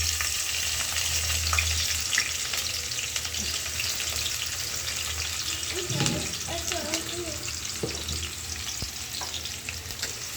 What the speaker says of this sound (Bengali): তেল দিয়েছি, এখন পেঁয়াজ দিয়ে দিই।